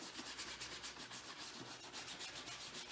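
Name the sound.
soft bristle brush scrubbing Puma golf shoes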